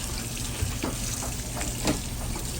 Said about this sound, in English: Wash the outside to get any of the loose scales.